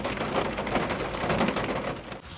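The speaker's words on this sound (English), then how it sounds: "The rain really just started picking up." Rain falling on a camper van at night, a dense, steady patter of drops drumming close on the roof and body, continuous and fairly loud.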